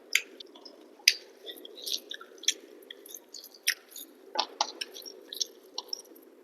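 Someone chews Milky Mist paneer close to the mic, with soft, moist, squishy bites repeating irregularly against a quiet background.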